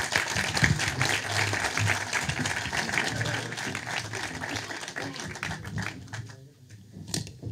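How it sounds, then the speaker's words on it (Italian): Clapping from a small audience at a mayoral candidate's press conference, a busy patter of hands fairly close by that carries on for several seconds and thins toward the end. "Applauso."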